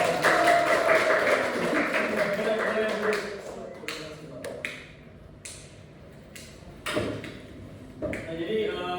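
A classroom of students claps together during a teaching-practice lesson, a dense burst of clapping over the first few seconds with voices mixed in, then fading to a quieter room with a few scattered knocks.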